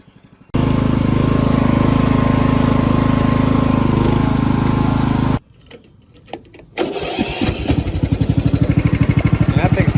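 An old Ariens riding mower that sat for about eleven years cranks and fires into a loud, steady engine roar, cuts out briefly after about five seconds, then restarts with a rough, rhythmic chugging.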